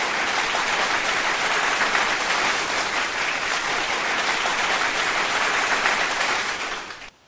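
Dense, sustained applause from an audience at a live radio broadcast, many hands clapping steadily for about seven seconds before quickly dying away at the end.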